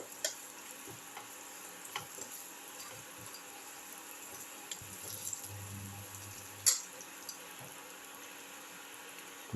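Cumin, egg and potato mixture frying quietly in a pan, a soft steady sizzle with occasional faint scrapes and clinks from stirring.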